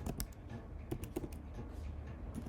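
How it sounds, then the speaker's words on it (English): Rapid, close clicking of keys on a computer keyboard while a terminal command is typed, steady bursts of keystrokes. "So I'm going to head over to the terminal and type .NET add package"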